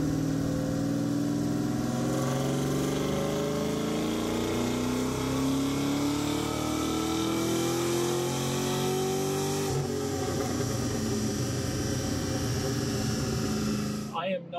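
An LS-swapped 1981 Chevrolet Malibu revs on a dyno, its engine droning loudly as the pitch climbs steadily toward about 6,000 RPM, then dropping sharply near the end; a voice talks over it.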